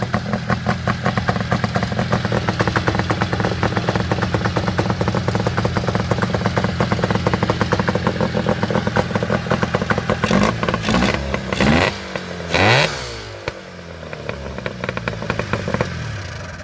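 Go-kart engine running while its carburetor is tuned, a loud, close, steady buzzing idle with rapid pulsing firing, then a few sharp revs rising and falling before it settles back to idle.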